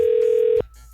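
A steady telephone call tone holds loud and unbroken for about half a second, then stops abruptly and leaves a faint line hum.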